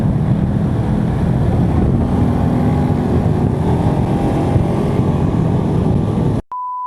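A brand-new Honda Click version 4 motor scooter being ridden home, with a steady, loud drone of engine and rushing wind that holds constant before cutting off abruptly at the end.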